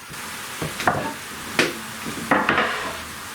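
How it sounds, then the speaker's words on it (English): Onions and wet ingredients for venison steak sandwiches hit a hot pan, giving a steady close sizzle broken by several sharp stirring scrapes, with no talking. "Now we're going to add our onions and our wet ingredients."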